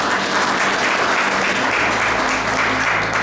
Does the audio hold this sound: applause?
yes